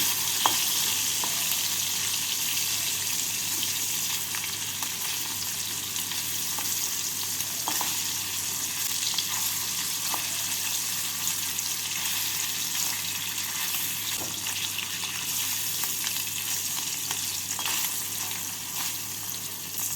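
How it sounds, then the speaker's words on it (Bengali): Paneer pieces frying in oil, a dense, steady sizzle held for a long stretch with faint pops and a couple of light clicks, close and even, no talking. "পনিরগুলোকেও লাল করে ভেজে নেব"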